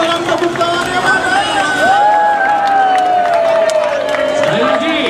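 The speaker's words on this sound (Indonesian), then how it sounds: "Sekali lagi masyarakat Buleleng tepuk tangannya mana?" Crowd at a Pengrupukan festival in Buleleng, Bali, clapping and cheering in a continuous dense wash, with a loud amplified voice ringing over the noise.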